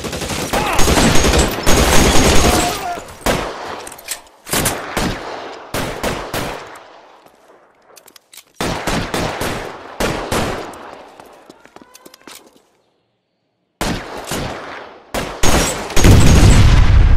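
Bursts of heavy, close gunfire in a L.A. Noire shootout at an electroplating plant, loud volleys separated by short silences and quieter stretches, ending with a final burst.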